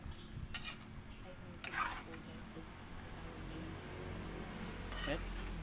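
A spoon stirring a pot of coconut milk stew with papaya and dried shrimps gives a few faint, scattered clinks and scrapes against the pot, quiet and close, with a low background bed and talking nearby.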